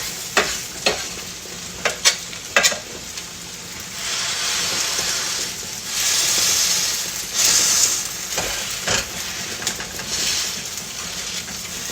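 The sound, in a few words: hash brown potatoes sizzling in a pan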